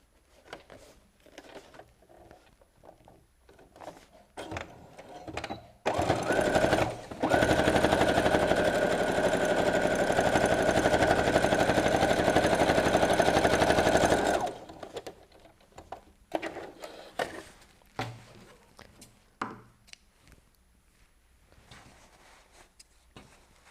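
A sewing machine stitches pockets into a fabric BBQ utensil roll, running in one steady, loud burst of about eight seconds between quieter stretches of handling and small clicks.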